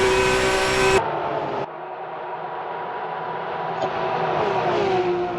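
GT3 race cars in a sim racing championship round sweep through Eau Rouge at Spa, a steady engine drone with a sharp cut partway through, then a rising, continuous note as the cars climb.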